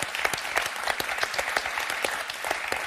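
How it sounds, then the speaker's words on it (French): Studio audience applause on a French game show, a loud, dense burst of many hands clapping in close rhythm, steady and bright throughout with no voices over it. "on va s'arrêter là et vous applaudir très très fort."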